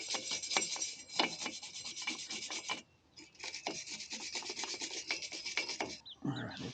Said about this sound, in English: I'm going to remove some of the surface rust with a wire brush